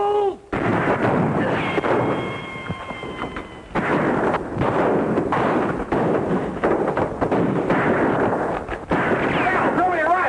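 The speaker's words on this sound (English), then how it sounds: "Start shooting, you fool!" Shootout in a classic western film, with repeated loud gunshots cracking through the scene in bursts amid shouted dialogue and tense background score.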